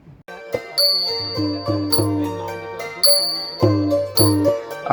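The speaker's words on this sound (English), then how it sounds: "We stopped to listen to these Khmer musicians on our way into Angkor Thom" Traditional Khmer ensemble music outdoors near Angkor Thom, with bright struck metallic tones ringing over low plucked or bowed notes, played in a lively, repeating rhythm; no talking.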